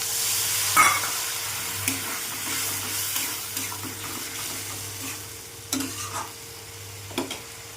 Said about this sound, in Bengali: অল্প জল দিয়ে দিচ্ছি